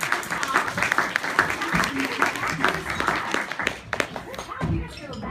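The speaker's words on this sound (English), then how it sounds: "Parents, can you give them a round of applause?" Parents applaud first graders at a school music show, a steady patter of clapping with cheering voices mixed in, moderately loud and continuous throughout.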